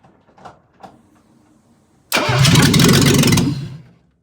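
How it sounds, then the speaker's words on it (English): A Mercedes R107's engine cranks and catches on its first start in years, a sudden loud burst of mechanical roar that holds steady for over a second before cutting off, preceded by a couple of faint knocks. "I'm just going to try starting that engine one more time"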